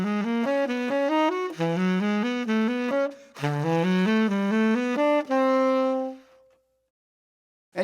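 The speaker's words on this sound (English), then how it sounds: "So around the circle of fourths, it may sound like this." A solo horn plays a short 1-2-3-5 jazz pattern repeatedly, moving through keys around the circle of fourths in a steady stream of quick notes, with a brief breath gap midway, ending on a held note.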